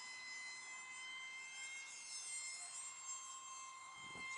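An Eachine Mini F22 Raptor RC plane cruising at half throttle in wind, a steady high-pitched motor whine with sustained tonal hum, held at an even moderate distance, with a faint low rustle of wind near the end.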